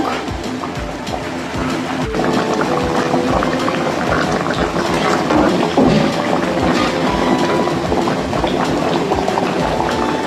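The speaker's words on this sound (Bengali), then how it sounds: "এবার মাছের সঙ্গে ঝোলটা একটু ফুটে উঠুক" Fish curry gravy with soft fish pieces boils steadily in a pan, a continuous close bubbling and simmering that grows slightly louder after the first couple of seconds and runs throughout without speech.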